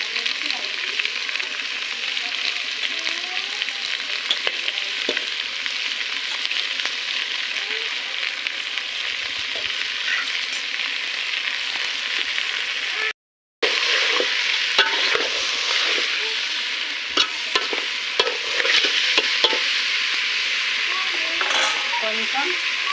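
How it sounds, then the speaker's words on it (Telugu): Country chicken sizzling and frying in a pot over a wood-fire stove while being stirred, a loud continuous hiss with scraping stirs throughout and a brief dropout partway, with someone speaking faintly now and then. "చికెన్ వేస్తున్నాండి. కోడి చికెన్ వేసుకోవాలండి."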